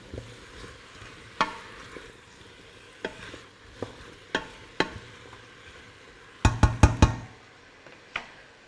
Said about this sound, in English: Stir all of that around.